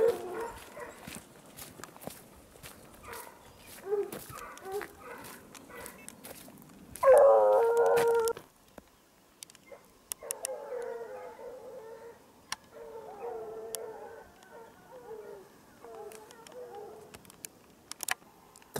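Ariégeois hunting hounds bay during a hare hunt in the Drôme Provençale, sounding from below the pines at a distance. Yelps and howls come in uneven bursts, with one louder stretch of chorus near the middle before they fade to scattered cries.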